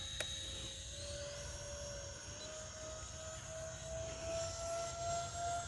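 A Freewing L-39 and an E-Flite F-16, both electric ducted-fan RC model jets, fly a low pass with a steady whine and rumble whose pitch shifts as they pass at a moderate distance.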